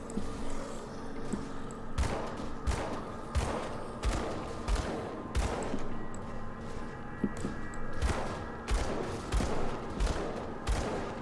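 Gunfire in the action role-playing game Grim Dawn, with repeated sharp shots and thuds scattered through a busy, continuous mix of combat effects, with no speech.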